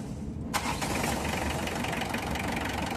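A Mitsubishi Adventure engine cranks and catches around half a second in after a timing belt replacement, then runs on with a steady, slightly rough idle.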